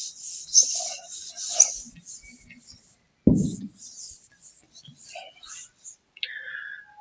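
Someone rubs writing off a classroom board during a geography lesson, a dry scratchy rubbing that comes in short strokes, close up, with quiet speech around it.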